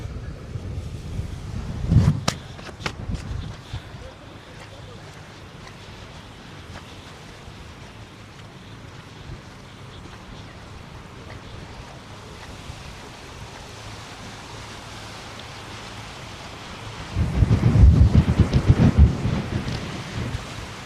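Strong wind buffets the microphone on an island shore at low tide, a steady rushing roar with heavy low gusts that surge loudly at the start and again near the end.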